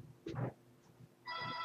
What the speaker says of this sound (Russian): сейчас я открою дверь, кто-то звонит